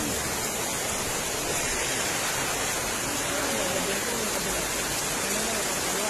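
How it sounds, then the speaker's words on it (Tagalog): Heavy rain pours down on a highway in a steady, dense roar that fills the whole stretch without letup. "Lakas ng ulan dito."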